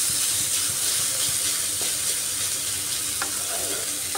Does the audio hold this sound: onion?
yes